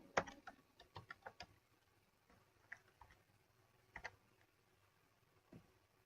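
Keys tapping on a computer keyboard in a quiet room, a few scattered faint clicks in short bursts with pauses between.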